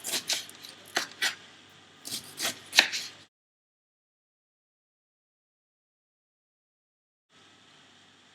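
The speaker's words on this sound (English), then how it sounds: "kind of shred the cabbage into thin slices" A knife shreds red cabbage into thin slices on a cutting board: a quick burst of crisp chopping strokes, then a few more. Silence follows, with faint handling noise returning at the end.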